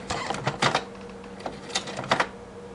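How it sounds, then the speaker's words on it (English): A home sewing machine labours through a thick stack of fabric while sewing a pajama set, giving irregular clusters of sharp mechanical clacks and thumps over a steady low motor hum, running slowly and close by. "the sound that my sewing machine is making"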